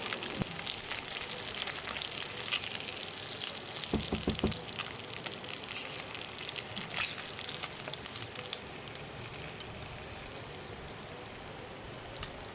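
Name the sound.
fish frying in oil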